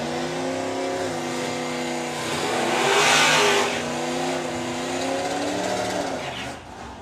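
Drag racing cars roar through a Pro ET qualifying run at the STP Summer Nationals, a loud sustained engine howl with rising revs peaking midway, then fading as the cars pull away.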